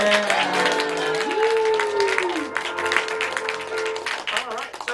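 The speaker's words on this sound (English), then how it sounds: "everybody want to give you one more big round of applause" Audience applause filling a room, dense steady clapping with cheers and a rising whistle-like tone over it, loud and continuous for the whole stretch.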